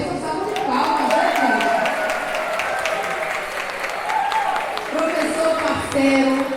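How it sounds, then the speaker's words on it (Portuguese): An audience claps in applause for a professor at a law lecture event in Recôncavo, steady dense clapping filling the room with voices mixed in throughout. "uma salva de palmas"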